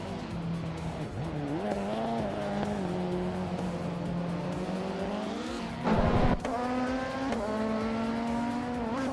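BMW M3 GTR Evo race cars roar through a video game race, a sustained engine drone shifting pitch as they accelerate, with a loud burst of tire squeal and skidding midway before the engines pull on again.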